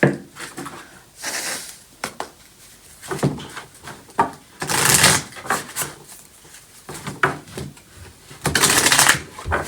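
Tarot cards are shuffled by hand in quick, papery riffles and soft slaps, with louder flurries breaking up quieter rustling, close up and without talk.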